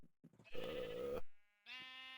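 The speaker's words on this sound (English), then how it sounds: "Some sheep randomly spawned way out in the other corner, and I lured them down here and fenced them in." Sheep in Minecraft bleat twice in quick succession, a wavering nasal baa followed after a short pause by a second, brighter bleat, clear and close with near silence around them.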